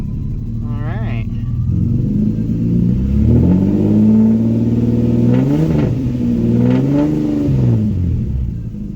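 A Nissan Maxima engine, fitted with new fuel injectors and fuel filter, runs up close, its pitch swelling and settling back into a steady low idle around 950 rpm, with a brief chirp near the start.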